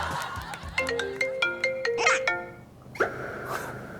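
A phone ringtone plays a melodic sequence of bright, evenly spaced tones that repeat for about two seconds, then a short chime follows. It sounds fairly close and clear, with a faint background and no speech over it.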